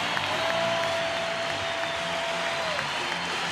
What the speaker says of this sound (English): The crowd getting up for their big moment that they hope the Lakers can come back here